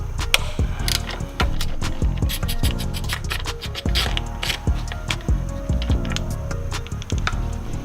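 Bolt being worked off a pulley cover on an 08-14 Subaru WRX, with continuous rapid ratcheting clicks and metallic scraping, close and steady throughout.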